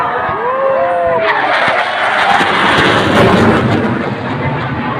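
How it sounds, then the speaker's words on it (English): Indian Air Force fighter jets flying past at the Republic Day parade air show over Rashtrapati Bhavan: a loud, sustained jet roar that swells and rumbles across the whole moment. "A stunning and spellbinding flight past, last maneuver, a symbolic salutation to the President of India"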